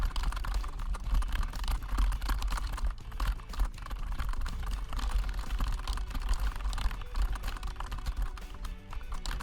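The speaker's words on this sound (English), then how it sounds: "And then I'm gonna switch to my laptop keyboard." Rapid, uneven clicking of keys on a laptop keyboard, close and fairly quiet, running continuously with no talking.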